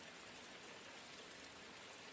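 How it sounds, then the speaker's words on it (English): Splattering rain from a sleep sounds app on a Firestick, a quiet, even wash of dense patter continuing steadily with no voices. "in the background, we have some splattering rain playing"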